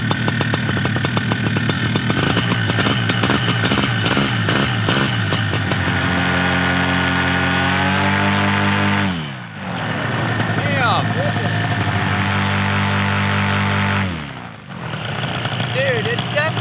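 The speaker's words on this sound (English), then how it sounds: "Dude, that factory exhaust is so nice." A paramotor engine with its factory exhaust runs loud and close, revving up and down with deep, gruntier tones and two brief dips in throttle, under no speech.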